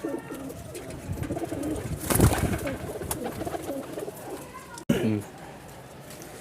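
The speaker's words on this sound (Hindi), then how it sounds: "ये मेरा असल रॉयल टैडी कबूतर है" A Royal Teddy pigeon, a high-flying breed kept in a breeding setup, gives soft throaty coos near the start and again near the end, with a burst of noise in between.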